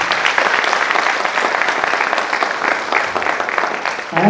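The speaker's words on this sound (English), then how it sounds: "Can you please clap for him?" An audience at a graduation ceremony in Kenya claps steadily, a dense, even burst of applause filling the room from start to finish before tailing off.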